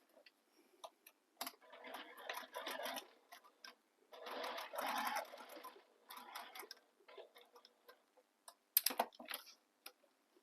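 A sewing machine stitches a bag in several separate bursts, each lasting one to two seconds, with pauses between them. The whirring is close and moderately loud, with sharp clicks near the end.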